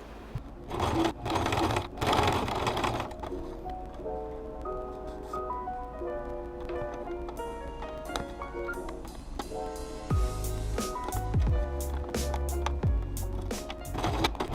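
A sewing machine stitches the edges of a small fabric mini handbag in short runs of rapid whirring, broken by pauses, handling noises and a few louder thumps.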